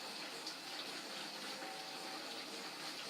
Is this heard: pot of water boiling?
yes